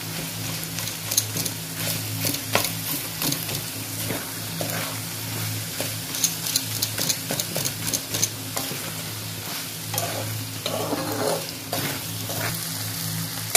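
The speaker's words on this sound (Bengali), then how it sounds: "এবার আবার একটু টমেটোগুলো থেতলে দেবো, মিশিয়ে দেবো এর মধ্যে।" Tomatoes being mashed and mixed in a sizzling pan, with a steady fry hiss under repeated scraping and stirring strokes throughout.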